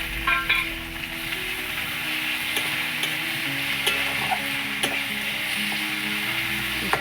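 Cumin, ginger, garlic and chili pastes fry in a pan for a mixed-vegetable dish, making a steady, close sizzle with scattered clicks and scrapes from stirring.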